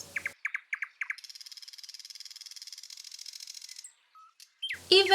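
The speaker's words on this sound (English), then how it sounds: "the nightingale continued to sing" A small bird sings a rapid, evenly pulsed trill that runs on for several seconds, preceded by a few short chirps and followed by faint isolated notes, close and clear with no talk.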